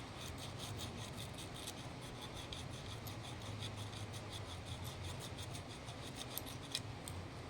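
A steady, gritty scraping of sandpaper rubbing over a clothes iron under repair goes on continuously at close range with an even level and no pauses.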